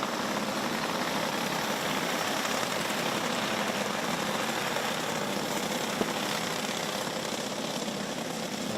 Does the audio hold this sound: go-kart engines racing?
yes